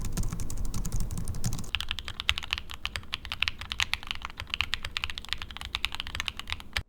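Fast typing on a Logitech Wave Keys ergonomic keyboard gives a dense run of soft, close key clicks with a fairly quiet, muted character. Low background noise fills the opening second.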